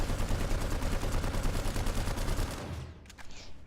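An NC weapon in PlanetSide 2 fires on full auto with a suppressor and a recoil-reducing attachment, a dense, loud rapid burst lasting about two and a half seconds before cutting off to quieter game noise.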